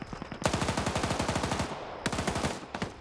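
A Dishka heavy machine gun in a video game fires two long, rapid bursts of sharp, evenly spaced shots, loud and close, separated by a brief pause.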